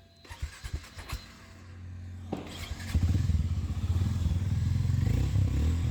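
A Harley-Davidson X440 motorcycle engine, 440 cc, rises from a few clattering knocks into a steady, throbbing idle and then a louder pulsing drone as the bike gets under way, close and with no talk over it.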